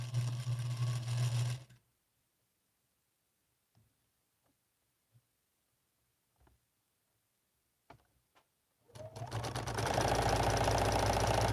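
A sewing machine stitches a quilt in fast, steady bursts, running loud at the start, pausing through a stretch of quiet clicks and handling noises, then running again strongly to the end.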